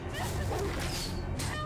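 Dogs bark in a Game of Thrones Season 4 episode 2 scene, a few yips and woofs mixed into dense scene sound while people talk over it.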